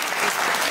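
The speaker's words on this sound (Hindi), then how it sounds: "मेरे को आप ताली बजा कर ताली इतना ही" Listeners at a Bhagavat katha gathering in Ghaziabad clap in a brief, dense burst that fills the whole moment, loud and close.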